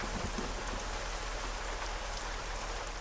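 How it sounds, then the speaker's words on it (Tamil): Steady rain falling in Euro Truck Simulator 2, a continuous broadband hiss of drops pattering on surfaces, even and fairly soft throughout with no voices. "மழை பெய்யுதுங்க இங்கே"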